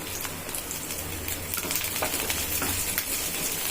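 Dumpling balls sautéing in a pan with green chilli and cashews, a steady soft sizzle and crackle with faint stirring, no voices.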